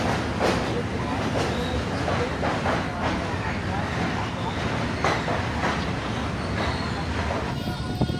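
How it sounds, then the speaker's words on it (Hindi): Passenger train on the Moradabad–Lalkuan route arriving at Kaimri railway station, a continuous loud rumble with rhythmic wheel clatter and rail noise lasting throughout. "हमारी ट्रेन का अराइवल हो चुका है कैमरी रेलवे स्टेशन पर।"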